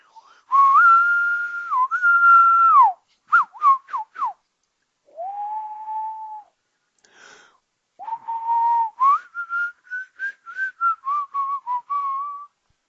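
A person whistles a song alone, with sustained held notes, short choppy phrases and a few pauses between lines.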